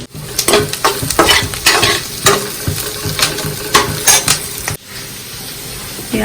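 Cumin, garlic and green chilli frying in oil in a pan for masala Maggi noodles, a steady close sizzle broken by quick rhythmic scrapes and clacks of a spoon stirring against the pan, then quieter sizzling alone.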